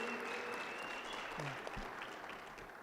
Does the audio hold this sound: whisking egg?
no